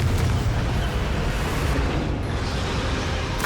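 A fiery blast spell in Hogwarts Legacy bursts with a loud, booming explosion that rolls on as a dense rumble for a few seconds, with no talk over it.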